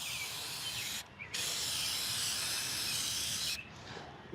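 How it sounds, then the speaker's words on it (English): Lubricant hisses from an aerosol spray can onto a semi truck fifth wheel during installation, in two steady bursts of about one second and two seconds with a brief break between them. "I'm going to spray some more of that lube on here."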